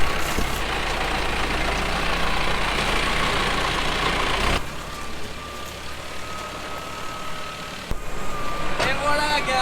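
A tractor engine runs loud and close, steadily droning as it pulls a straw trailer out of a field, easing off partway through while a voice talks over it.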